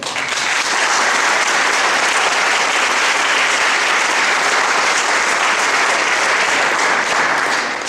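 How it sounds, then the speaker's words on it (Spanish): Loud, dense applause from a large audience greeting a speaker at a talk on the Gaza conflict, a steady wash of clapping that holds at full strength almost throughout. "Bienvenidos, un fuerte aplauso"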